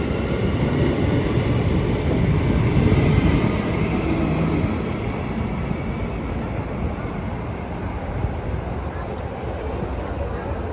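A train rumbles past nearby on the Thornlie-Cockburn line with a broad, steady roar and rattling wheels, the noise easing slightly as it moves on.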